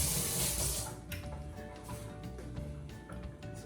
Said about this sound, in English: Let's rinse this spoon off